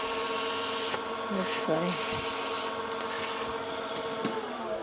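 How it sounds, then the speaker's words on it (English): A wooden tenon on a woodturning project is sanded by hand to fit, giving a steady scratchy rubbing close up, with a brief spoken remark partway through. "I'm going to sand this to fit now"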